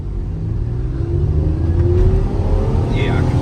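Chevy Camaro V6 with a Windbooster throttle controller in sport mode revving up, a steady rising engine drone building in loudness, with people talking over it.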